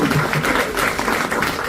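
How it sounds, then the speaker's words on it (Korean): Steady applause from an audience at a book launch event, a dense, even patter of clapping filling the short moment without pause. "보통 이럴 때 박수를 치던데요"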